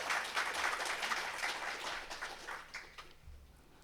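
Audience applause after a poetry talk in Gujarati, a dense burst of clapping that is loud at first, thins out and fades away over a few seconds.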